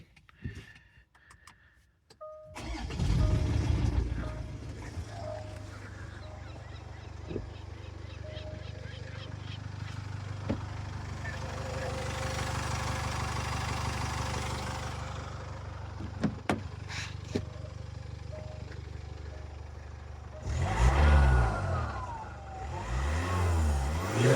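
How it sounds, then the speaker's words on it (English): A Jaguar F-Pace 204DTD Ingenium diesel engine cold starts and settles into a steady idle with a thin turbo whine riding on top, with a few brief knocks and a revving surge near the end. "we'll do a cold start and I'll see if it's still got the whine."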